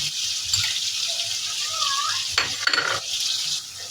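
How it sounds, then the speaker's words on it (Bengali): Chicken jhal fry masala being stirred in a pan, with a steady sizzle and a spatula scraping and clinking against the metal in short bursts near the end, no voices. "এখন মশলাটা ভালো করে কষিয়ে নেব।"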